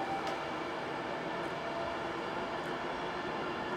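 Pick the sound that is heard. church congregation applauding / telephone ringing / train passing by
train passing by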